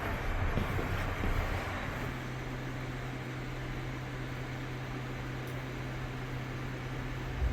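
A Mugunghwa train rolls along the winding single-track Gyeongbuk Line, heard from inside a nearly empty rear carriage as a steady, low rumble and hiss with a constant hum, fairly quiet and with no talking.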